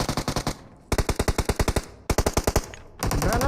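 Automatic gunfire in the mobile battle-royale game PUBG Mobile: loud rapid bursts of shots in several rhythmic volleys separated by brief pauses, with no talking.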